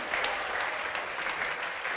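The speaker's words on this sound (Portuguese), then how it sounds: "Vamos aplaudir ao nome de Jesus." A church congregation applauding together during a worship service, a full, even wash of clapping that holds steady and close throughout.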